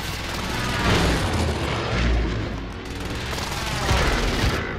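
Air strike explosions in a video game thunder in heavy, rolling booms that surge and swell in several waves, deep and loud, one blast blending into the next with a crackling tail.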